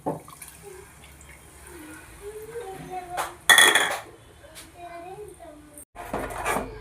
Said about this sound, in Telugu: చింతపండు రసం వేసుకొని ఇలా మిక్స్ చేసుకోవాలంటండి